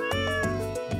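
A cat meows in the farming video game Stardew Valley, two or three close, clear meows repeating in quick rhythm with nobody talking.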